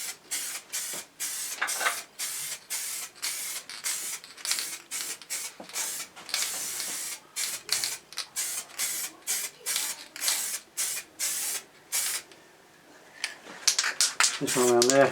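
Liquid wrap coating is sprayed from a can onto a Triumph Tiger motorcycle in a garage, in a long series of short, loud hissing bursts with brief pauses between them.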